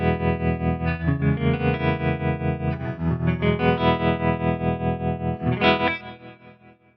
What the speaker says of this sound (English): I really like the sound of the bias trem at stock settings.